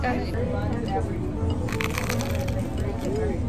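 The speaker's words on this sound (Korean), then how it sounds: "바삭한 소리가 나지?" Crisp crunching bites over steady background noise, a few sharp cracks mixed with chatter in the room.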